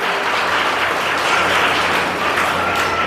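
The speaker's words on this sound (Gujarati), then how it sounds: "આપણે સૌ તેમનું તાળીઓથી સ્વાગત કરીએ" Audience applause welcoming the Khilosiya family at a birthday gathering, a dense steady wash of many hands clapping close by for about three seconds with no talk over it.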